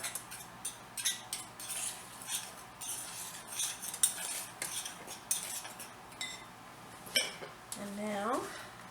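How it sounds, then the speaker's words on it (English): A spoon stirring banana pudding mixture in a bowl, with repeated light clinks and scrapes of metal on the dish, fairly quiet, and a faint voice murmuring in the background. "Stir that up a little bit. Just mix it together."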